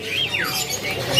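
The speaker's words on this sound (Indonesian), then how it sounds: "Nah, kalau ini mah pilihan burung cawilis yang sudah dewasanya di sebelah sini." Cawilis birds calling at a bird market kiosk: sharp, sweeping squawks and chirps close by over a busy background.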